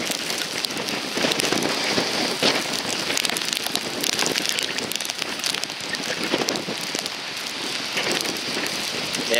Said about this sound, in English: Got some strong gusts of wind and heavy rain.